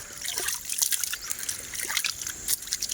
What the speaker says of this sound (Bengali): তবে খাওয়ার আগে হাতটা ধুইতে হয়। নোনা জলে আছে, নোনা জল আছে, ধোবো ভালো করে।